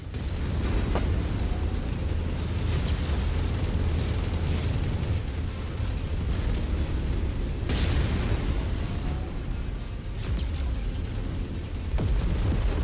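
In MechWarrior 5: Mercenaries, destroyed mech targets blow up in loud, heavy booms that repeat every few seconds over a constant rumbling battle roar.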